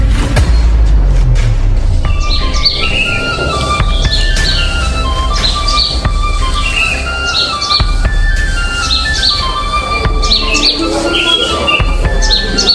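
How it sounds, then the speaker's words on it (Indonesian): A dense chorus of birds chirps and tweets continuously over a low rumbling background, many overlapping calls layered close together and loud throughout. "paduan suara burung-burung kian meramaikan suasana"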